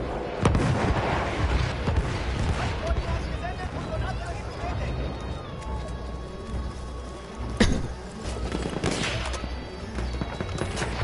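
Heavy artillery fire in the World War I shooter Battlefield 1: a dense, continuous battlefield rumble with scattered booming impacts, one standing out near the end.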